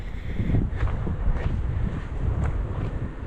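Strong, cold wind buffets the microphone in a constant low roar, gusting unevenly throughout with no voices.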